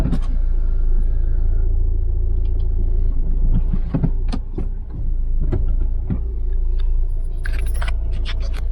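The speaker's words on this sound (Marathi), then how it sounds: "आता आम्ही गाडी पार्किंगसाठी घेऊन चाललो आहे आतल्या बाजूला" A car creeps slowly through a beachside resort grounds in Dapoli toward the parking area, its low engine rumble steady throughout, with scattered clicks and a jangle of keys inside the cabin.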